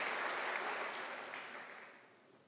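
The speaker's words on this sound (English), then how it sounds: "Can you give yourself a round of applause?" Steady crowd applause at a university graduation ceremony, dense and even, that gradually fades over a couple of seconds.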